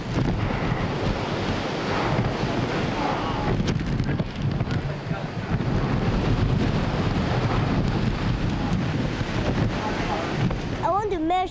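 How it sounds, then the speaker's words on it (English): Strong wind gusting across Hong Kong harbor during a typhoon, a loud continuous roar with buffeting noise against the microphone and the wash of waves beneath, steady and close throughout. "Strong winds across the harbor in Hong Kong too."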